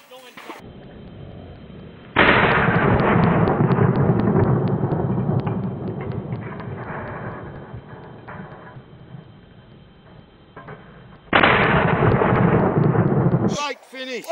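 Two loud shotgun blasts fired at clay targets, each with a sharp onset and a long booming outdoor decay, and voices talking between them.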